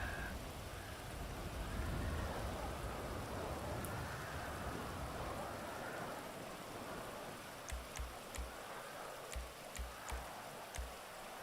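Steady rain falls in the GTA 5 game over a race track, a broad even wash of drops with a few soft thumps and clicks near the end.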